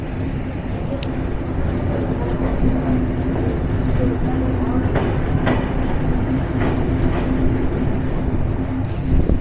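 The Silk City Express rolls along in Bangladesh with a steady rumbling roar and faint clickety-clack of wheels, heard from on board, a low hum running throughout and voices murmuring faintly underneath.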